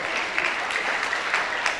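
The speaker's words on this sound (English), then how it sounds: "You have to applaud them." Audience applause for science quiz winners at a school Science Day event, a steady, dense patter of clapping from a sizable crowd, even in level throughout with no voices above it.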